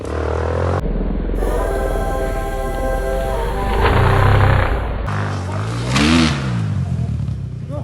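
A Honda enduro motorcycle on quarry forest trails revs hard as it pulls away. The engine note climbs and falls in strong surges, loud and close, with rough rumble underneath and brief voices in between.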